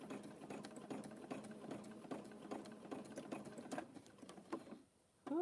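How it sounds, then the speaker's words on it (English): A sewing machine zigzag-stitches over rope to make 4 inch coasters, its needle chattering in a rapid, even ticking rhythm up close before the stitching stops abruptly near the end. "You're stitching right over top of your zigzag."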